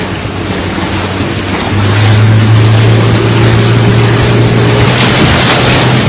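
A speedboat speeds down the middle of the Rio Negro in the Amazon, throwing up spray, with a loud steady engine roar and rushing water close by throughout.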